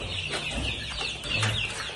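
Black Phu Phan chickens, including three-week-old chicks, clucking and peeping continuously on a farm, several overlapping close calls over a steady background hum.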